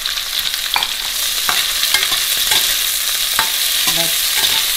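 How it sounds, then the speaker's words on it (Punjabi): Okra fries in a pan for aloo bhindi, giving a steady, close sizzle with scattered stirring scrapes and clicks throughout, with no talk. "ਹੁਣ ਅਸੀਂ ਭਿੰਡੀਆਂ ਸੇਕ ਲੈਣੀਆਂ ਥੋੜ੍ਹੀਆਂ ਜਿਹੀਆਂ"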